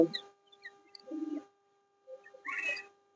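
Pigeons coo softly in short, separate bursts with pauses between them, close by inside an enclosed pigeon house.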